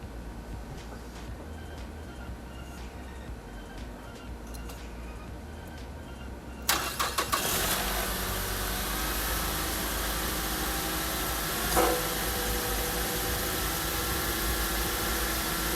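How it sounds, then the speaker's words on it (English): A Mazda CX-7, fresh from a fuel pump replacement, cranks briefly and fires up, then settles into a steady idle; quiet ticking precedes the start, and the engine hum continues evenly with a small bump partway through. "it's time to turn on the car and let's see if it turns on"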